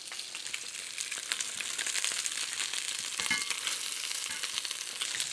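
Chicken thighs browning in a pan, a soft continuous sizzle with scattered crackles and pops, fairly faint and steady, with no talk.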